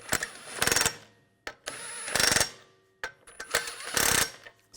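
Ratchet snugging bolts on a 2006-2010 BMW 550i front outer tie rod job: three bursts of quick clicking pawl ratcheting separated by short pauses, close and crisp with no talking.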